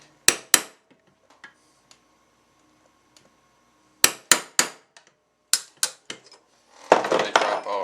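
Hammer tapping a non-marring punch to drive trigger group pins out of a Ruger 10/22 rifle: sharp metallic taps in short clusters of two or three, separated by quiet gaps, close by, with a rustling handling noise at the end.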